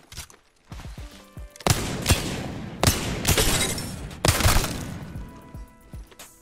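Rapid bursts of gunfire in the Apex Legends video game, with several loud cracking volleys separated by short pauses while the player strafes between shots, probably using a Wingman or Peacekeeper; no talking.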